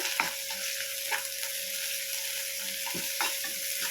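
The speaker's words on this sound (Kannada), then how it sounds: "ಖಾರಕ್ಕೆ ಎಷ್ಟು ಬೇಕಷ್ಟು ಹಸಿಮೆಣಸಿನ್ಕಾಯಿ, ಬೆಳ್ಳುಳ್ಳಿ, ಕರ್ಬೇವಿನ ಸೊಪ್ಪು, ಟೊಮೆಟೊ ಎಲ್ಲ ಹಾಕಿ ಸ್ವಲ್ಪ ಬಾಡಿಸ್ಕೊಳ್ಳೋಣ" Green chilies, garlic, curry leaves and tomato sauté in a pan with a soft, continuous sizzle. Intermittent scrapes and taps of a stirring spoon sound close by, and no one talks.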